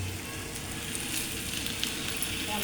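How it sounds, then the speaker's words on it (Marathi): Bhindi with masala sizzles and fries in a pan, a dense, even crackle held steady at close range, with no voices over it. "फ्राय करून घ्यायचं व्यवस्थित"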